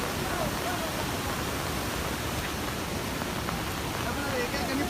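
Water pours down Savatsada waterfall near Chiplun in the Konkan, a dense, constant rushing roar that fills the whole scene at close range without pause.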